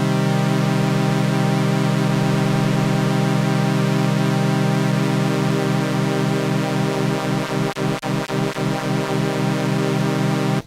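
A steady, buzzy Korg Polysix analog synthesizer tone with pulse width modulation drones with a thick, rich timbre, a slow pulsing wobble emerging toward the end before it cuts off.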